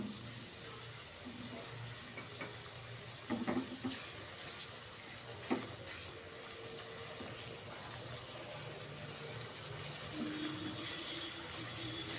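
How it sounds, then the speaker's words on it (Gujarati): A little water poured into a pan of stuffed capsicum curry, a steady close splashing flow running throughout with a few brief knocks. "થોડુંક પાણી 2 ચમચી જેટલું."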